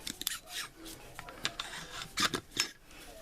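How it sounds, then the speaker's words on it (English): Metal parts scraping and clicking as the bolt carrier is drawn out of an AR-15 rifle, a few short rasping rubs and ticks close up, fairly quiet, with no talk over them. "pull the pin out. AccuWedge, go right down there, and let's pull the bolt carrier out."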